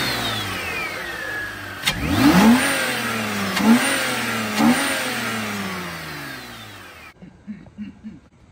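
A car engine fitted with a cheap aftermarket air intake from Amazon revs up sharply three times from idle, each rev rising and falling loudly and close by, then settles back to a low idle.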